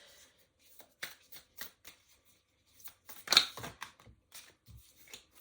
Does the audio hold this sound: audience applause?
no